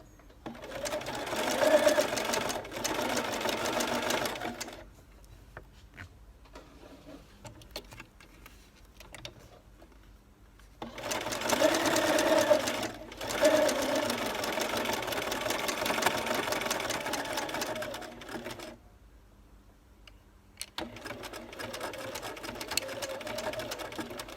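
A sewing machine embroiders a scallop edge onto a lace hem. It runs in several bursts of fast, even whirring and ticking, separated by short quiet gaps, at moderate volume.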